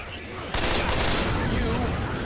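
Gunfire in a Left 4 Dead 2 versus match: quiet background, then sustained rapid shooting erupts abruptly and carries loudly to the end, with voices murmuring underneath.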